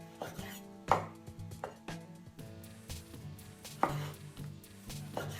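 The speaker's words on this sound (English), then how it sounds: "And again, we're just going to cut this up." A knife cuts heirloom tomatoes on a cutting board in a steady run of close, distinct chops, each landing with a firm knock on the board.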